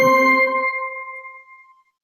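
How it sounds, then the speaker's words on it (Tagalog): A single bell rings once, a bright ding with long ringing overtones that fades out over about two seconds, clear and alone with nothing else around it. "Pagkatapos kong magsalita ay may maririnig kayong bell."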